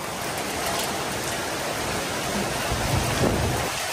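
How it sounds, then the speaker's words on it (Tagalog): Heavy rain pours down steadily and loudly, a dense unbroken roar with a low rumble underneath. "Yan, ulan mga kababayan. Yung buhos ay hindi pa natapos."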